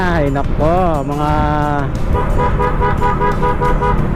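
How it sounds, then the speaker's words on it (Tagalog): Car horns toot repeatedly and loudly over busy traffic, with voices talking underneath. "pasaway, bumubusina pa."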